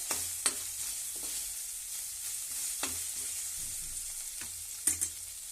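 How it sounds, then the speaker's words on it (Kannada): Cumin seeds sizzle and fry in hot oil for a dal and jeera rice lunch, a steady close crackling hiss broken by a few sharp pops and stirring clinks, with no talk. "ಜೀರಿಗೆ ಹಾಕ್ತೀನಿ ರೀ"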